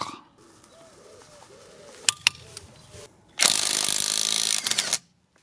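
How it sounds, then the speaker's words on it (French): A cordless impact wrench tightens a bolt to 170 Nm, a loud, dense hammering burst of under two seconds after a few quieter clicks and faint background chirps. "170 Nm, facile avec la clé à choc, même en vanadium."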